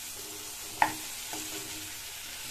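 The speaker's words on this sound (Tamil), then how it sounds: "இந்த காயை இந்த மசாலாலேயே 1-2 நிமிஷத்துக்கு வதக்கி விட்டுக்கோங்க" Chayote pieces sautéing in masala for sambar make a faint, steady sizzle, with one sharp clink of a spoon against the pan.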